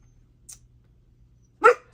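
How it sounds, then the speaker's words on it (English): A dog indoors gives one short, sharp bark near the end, moderately close, after a faint yip earlier in an otherwise quiet room. "Sorry about the dog."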